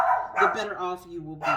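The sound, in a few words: dogs barking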